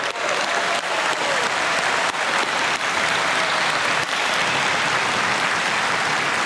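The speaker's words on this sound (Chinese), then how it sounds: "我们是不是用最热烈的掌声欢迎感谢他们？" An audience at a Taiwanese political speech and state banquet event in Tainan gives loud, sustained applause that fills the whole stretch evenly, a dense, close crowd of clapping hands.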